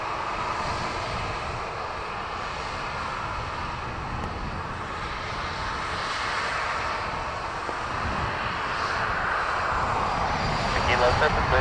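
Ryanair airliner engines roar steadily at Dublin Airport, a broad continuous rumble and whine that swells slightly toward the end, with radio-style voices talking over it.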